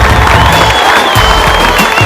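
A studio audience of girls and boys on a TV game show claps loudly for the boys, a dense continuous burst of clapping and crowd noise with a whistle-like tone above it.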